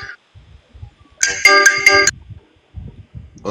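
A telephone ringtone, the school's phone, rings in a loud electronic burst of repeated tones lasting under a second, with soft background noises before and after.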